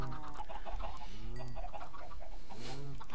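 Minecraft chickens clucking in short, repeated bursts at moderate loudness over a steady game background, with a few separate bird-like calls scattered across the moment.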